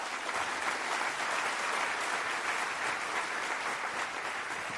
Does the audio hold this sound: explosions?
no